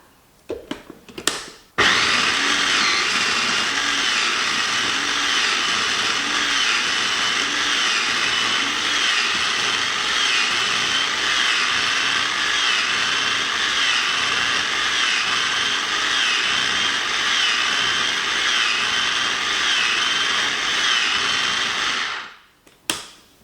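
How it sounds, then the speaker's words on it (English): A food processor whirs steadily for about twenty seconds while blending a creamy feta dip, a loud, even motor drone with a churning rhythm, starting abruptly and spinning down at the end. "the blade actually moves up and down to get the food circulated"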